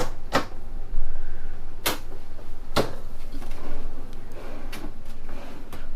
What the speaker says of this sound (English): I love these soft closing drawers.